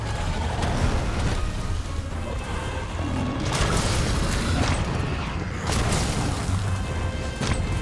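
Monster Hunter World: Iceborne explosions during a Master Rank Teostra hunt: heavy crashing booms land over a continuous rumbling roar, with stronger blasts at several points.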